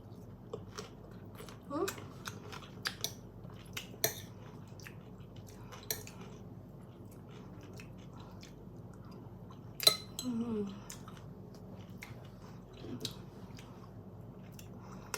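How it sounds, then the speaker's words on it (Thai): Soft, wet chewing and crunching of green mango salad (som tam), with occasional clicks of utensils and dishes, close and quiet. "มากินตำบักม่วงกันนะคะ"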